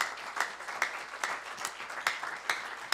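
Sparse, fairly quiet clapping from a congregation at a Sunday church service, a few sharper claps standing out in an uneven rhythm, with no talk over it.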